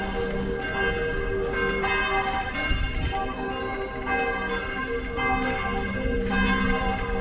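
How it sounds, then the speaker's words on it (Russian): Church bells ringing steadily in a German town, loud overlapping peals repeating throughout with no talk. "Колокольный звон."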